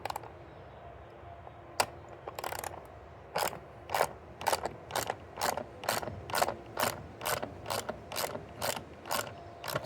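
A hand ratchet removes bolts while fitting crossbars to a Tesla Cybertruck: a few scattered clicks, then a steady run of about a dozen crisp ratcheting bursts, close and evenly spaced.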